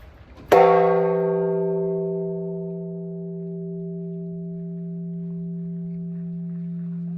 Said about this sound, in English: We also heard someone gonging at one of the shrines.